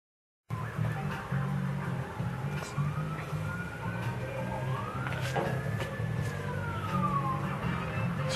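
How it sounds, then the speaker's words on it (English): Wailing emergency siren sweeping up and down, distant to mid-range, layered over a steady low rumble and background noise throughout. "So now you can hear the sirens going."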